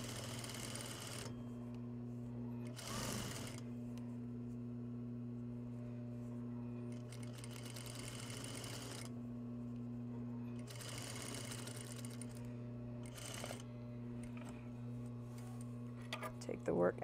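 A sewing machine stitches a seam with bias binding along the raw fabric edge under the presser foot, running in a steady hum through several bursts separated by short pauses.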